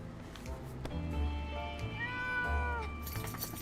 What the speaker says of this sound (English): Did I just hear a cat? We got a cat?